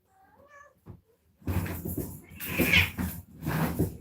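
A cat yowls and caterwauls in loud, drawn-out howls, several rising wails in a row after a short soft meow at the start, close by.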